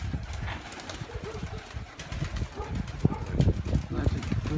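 Pigeons coo softly while being fed, low murmuring calls mixed with rustling and fluttering that grow a bit busier toward the end.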